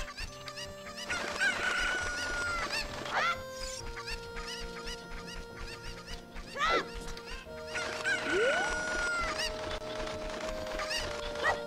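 Cucco chickens cluck and squawk in Kakariko Village in the video game Zelda Ocarina of Time, with repeated sharp calls and rising cries over sustained game music tones.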